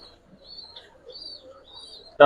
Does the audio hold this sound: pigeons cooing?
yes